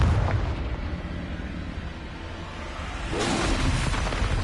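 A Confringo blast spell explodes in the Hogwarts Legacy video game as a loud, sustained, roaring boom that swells again toward the end.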